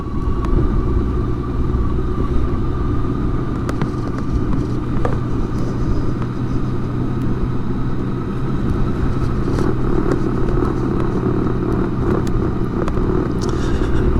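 A BMW K1600 GTL motorcycle rides over cobbled streets, with a continuous deep engine rumble and road drone and light rattling bumps throughout, close and steady.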